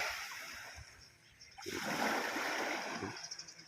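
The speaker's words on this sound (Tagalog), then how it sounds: "ang ganda pamasudar yung mga hampas ng hampas ng alon. Ang ganda pakinggan." Sea waves break and splash close by on a clear, windy sea during a fishing trip, a rushing surge building midway and then softer sloshing swells.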